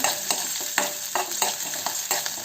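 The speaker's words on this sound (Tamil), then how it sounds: "இந்த வெங்காயம் கொஞ்சம் வதங்கட்டும்." Onions sautéing in a pan over low heat for an anchovy dried-fish gravy, a steady close sizzle broken by regular scraping strokes of a spoon stirring, with no talking.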